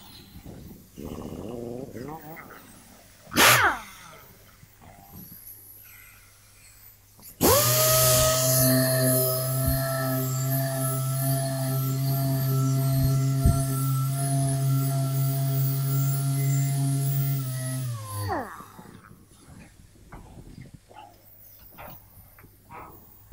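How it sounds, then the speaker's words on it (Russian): A polishing tool sands car paint with a P3000 disc, giving a steady, loud whirring hum for about ten seconds that starts and stops abruptly, with quieter handling noises before and after. "мы первоначально сейчас полирнем, шлифанем P3000 достаточно широкую поверхность"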